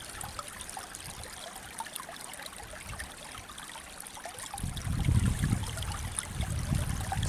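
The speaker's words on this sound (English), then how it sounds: "we can see the water flowing under the ice." Creek water trickling and gurgling beneath a covering of ice, a soft steady flow close by that swells into a louder, fuller rush near the end.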